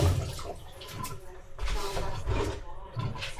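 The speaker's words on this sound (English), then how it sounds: "So now I'm going to wash my hands real quick." Running tap water pours steadily while hands are washed at a kitchen sink during meat prep, a continuous close splashing hiss with slight surges.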